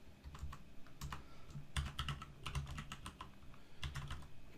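Fingers type on a computer keyboard, with quick, uneven bursts of close key clicks and short pauses between them. The tapping is fairly quiet and there is no speech.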